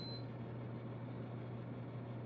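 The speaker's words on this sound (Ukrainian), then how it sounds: "це посудомийка. Пищить." A dishwasher gives a short, thin electronic beep at the very start, then only a steady low indoor hum remains.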